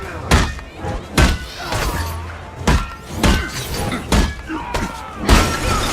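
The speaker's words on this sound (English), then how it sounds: "Thor's hammer sounds like a rubber kickball smacking you in the face" Thor's hammer strikes during a Crash Bandicoot boss fight, each hit a loud rubbery smack landing roughly every second amid game sound effects and background music.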